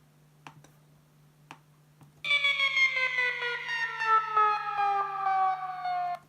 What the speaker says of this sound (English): pitched down bleepy sound